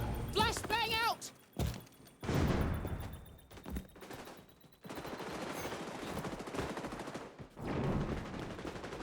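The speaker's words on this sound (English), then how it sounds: "Flashbang out." A flashbang grenade goes off amid bursts of automatic gunfire in a multiplayer shooter video game. The loud blasts and rattling volleys come in waves, with in-game voice callouts mixed among them.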